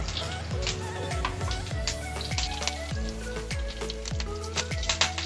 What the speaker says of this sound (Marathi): मोहरी टाकायची आहे, मोहरी व्यवस्थित तळतळू द्यायची आहे।